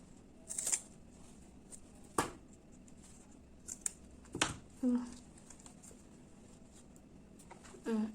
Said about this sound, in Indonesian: Kemudian kita gunting ujungnya.